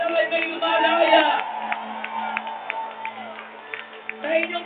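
A church congregation shouts and cheers in praise, a loud crowd roar with scattered whoops and claps building and swelling throughout, with a voice speaking over it.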